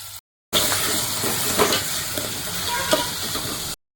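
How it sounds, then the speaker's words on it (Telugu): Onions, curry leaves and green chilies sizzle steadily in hot oil in a pan for a mutton gravy curry, a continuous close frying hiss with a few stirring clicks, no voices. "ఆనియన్స్ అనేది బ్రౌన్ కలర్లో వేగిపోయాయండి"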